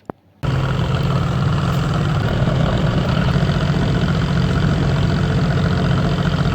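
A ferry launch's engine idles steadily at a jetty on the river crossing to Naihati, a loud continuous low rumble with a mechanical hum, starting after a brief quiet moment and running unbroken.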